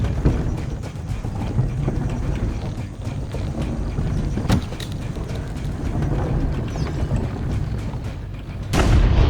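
Cannon fire in the Assassin's Creed Brotherhood video game sounds as a few sharp booms over a busy rumbling backdrop of hooves and movement, with a louder blast near the end.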